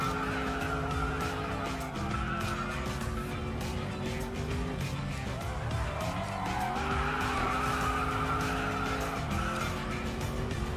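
An Audi RS7 in the mobile racing game Racing Master drifts through a U-turn, tires squealing continuously over a loud, steady engine roar with shifting pitch, close and without speech.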